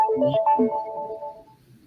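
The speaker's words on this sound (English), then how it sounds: "Is that your phone?" A phone ringtone plays a short, melodic electronic tune at moderate loudness, its notes stepping and then trailing off. It sounds alone.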